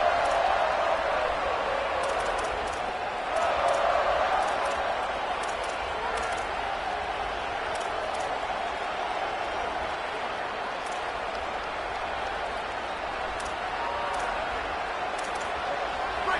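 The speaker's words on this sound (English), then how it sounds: "This crowd ready to make its presence known" Football stadium crowd at an Oklahoma game keeps up a steady, dense roar of cheering and noise throughout, loud and sustained with no single voice standing out.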